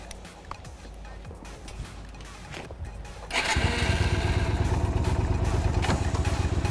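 Yamaha motorcycle engine starting after a few seconds of outdoor background noise, then settling into a loud, steady, rapid idle thrum that continues close by.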